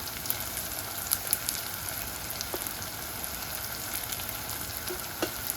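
Elephant foot yam sizzles with curry powder as it is stir-fried Jaffna style, a steady crackling hiss with occasional scraping stirs and small pops throughout.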